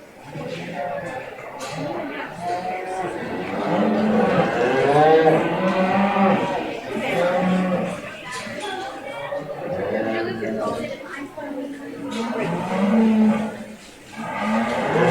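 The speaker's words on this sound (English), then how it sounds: "We'll have Katie Schreibice with her Black Angus cow-calf pair and Rudy Ballstead with her Hereford cow-calf pair." Black Angus and Hereford cattle in cow-calf pairs bellow repeatedly at a 4H beef show, long loud moos overlapping one another amid crowd chatter and an announcer's voice in the background.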